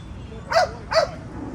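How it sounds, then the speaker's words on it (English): A basset hound gives two short barks in quick succession, moderately near, over a low background hum. "Oh yeah, he's barking."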